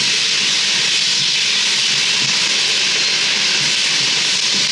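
Onions frying in a pan for a cabbage mixed-vegetable dish give off a loud, continuous, even hiss with no breaks, close up.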